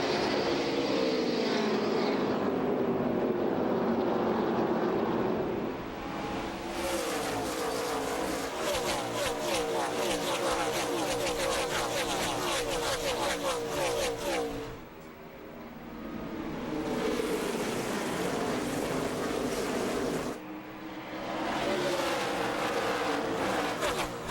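Pack of 43 NASCAR stock cars roaring at the green-flag start of the 2005 Checker Auto Parts 500, loud sustained engine drone swelling and fading as the field passes, with a broadcast commentator talking over parts of it.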